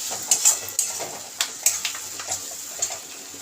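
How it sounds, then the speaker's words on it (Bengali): Chilli chicken stirred in a pan with a spoon, giving a series of irregular scraping clicks and soft wet sizzle close by, with no talking. "এবার একটু নেড়ে দেব।"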